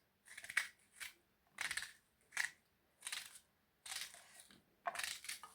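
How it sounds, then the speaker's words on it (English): A knife cuts onions into small pieces, about seven separate crisp chopping strokes with short quiet gaps between them, close and fairly soft, and no voices. "So first you cut the onions."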